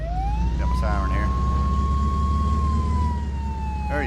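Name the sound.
tow truck siren in Flashing Lights video game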